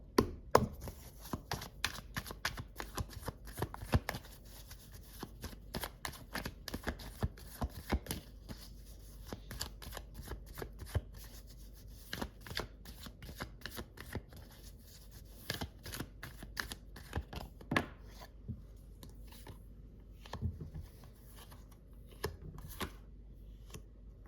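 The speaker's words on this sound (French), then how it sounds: "Je vais rabattre encore une fois les cartes par-dessus." Playing cards shuffled and laid back on top of the deck during a tarot reading, a dense run of close, crisp riffling clicks and snaps with short pauses, no talking.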